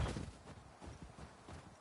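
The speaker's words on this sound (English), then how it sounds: "The Last of Us had a horse." A horse in The Last of Us video game clip-clops along at a walk, a run of soft, evenly spaced hoof thuds, fairly quiet and heard without talking.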